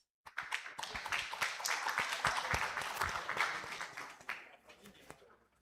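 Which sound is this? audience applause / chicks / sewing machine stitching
audience applause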